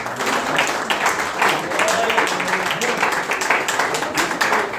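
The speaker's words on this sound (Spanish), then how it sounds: "Un aplauso para Cristo." A church congregation claps in dense, sustained applause for several seconds, many hands beating steadily at close range with crowd murmur and voices mixed in.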